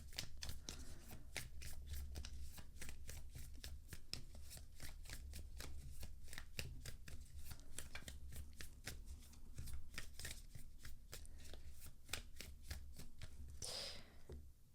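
Isis Oracle tarot cards being shuffled, heard as a fast, even run of close, crisp riffling flicks. The flicks continue steadily for many seconds at a low level, with a louder rustle near the end.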